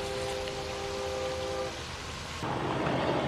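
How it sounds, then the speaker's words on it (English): Union Pacific local freight train approaching on the westbound side, a steady rumbling roar with a brief tonal horn-like hum early on, heard from outdoors and growing slightly louder toward the end. "It's a local freight coming this way."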